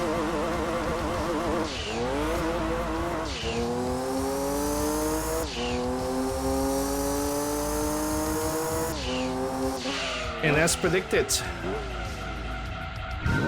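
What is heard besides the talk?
race car engine in Gran Turismo 2 video game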